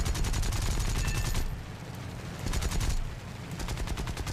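Aircraft machine guns in War Thunder, fired in three rapid, loud bursts separated by short pauses, over a steady engine drone.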